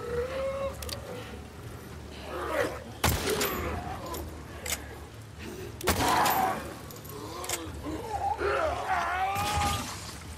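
Pistol gunfire in the video game The Last of Us Part II: two sharp, loud shots crack out a few seconds apart amid game ambience, with groaning, creature-like vocal sounds in between.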